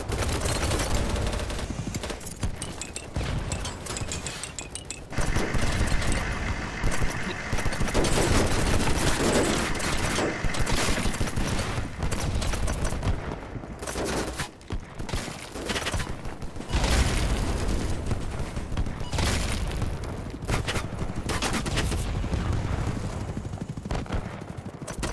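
Gunfire in the Battlebit video game, with dense rapid automatic bursts and single shots crackling almost nonstop in loud overlapping volleys, close and chaotic, with no talk.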